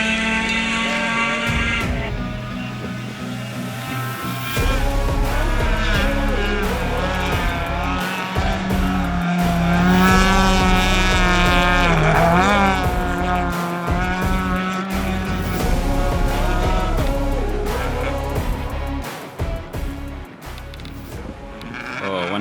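A VW Polo rally car at the Algoa Scribante Rally, suffering rear brake locking, drives past with a loud, rising and falling engine drone and a tyre squeal in the middle, under faint commentary.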